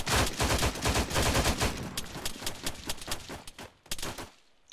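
Rapid gunfire in Arma 3 during a co-op firefight in Takistan: dense bursts of automatic shots, loud and close at first, then thinning into scattered single reports before fading to near silence.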